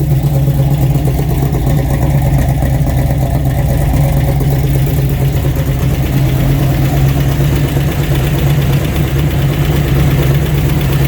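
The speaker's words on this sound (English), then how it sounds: "I have it set to about 750 right now RPM for idle" A cold carbureted-style car engine fitted with a Fitech Go EFI Classic fuel injection system idles at about 750 RPM, a steady, loud, close rumble with a constant low throb and faint mechanical ticking throughout, with no talking.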